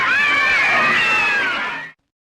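Cats in a 1972 horror film trailer yowl and meow in a loud, dense, continuous chorus of wavering cries that cuts off abruptly near the end.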